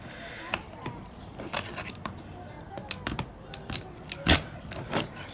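A live lobster being cut open gives faint, irregular crunching and snipping sounds, scattered short cracks of shell, with a louder snap near the end.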